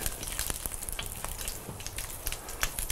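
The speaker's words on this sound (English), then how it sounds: "I'm going to wait till these fry." Gyoza dumplings fry in a pan with a dense, continuous sizzle and scattered sharp crackles and pops, close and steady throughout.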